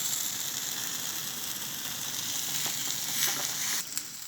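Melted cheese bubbling and sizzling in a pan in a zucchini breakfast dish, a soft, steady crackling fry with faint spits and pops, heard close up and alone.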